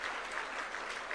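A conference audience claps for a speaker at an investment conference in Murang'a, Kenya, a soft, even patter of many hands heard at a distance and fairly faint, with no talk on top.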